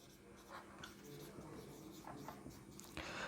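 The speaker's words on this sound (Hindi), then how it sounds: "मैं लिखता हूं फर्स्ट फॉर्मूला ऑफ मोल।" Formula being written on a board during a chemistry lecture on the mole concept, soft scratchy strokes running faintly beneath a teacher's steady speech.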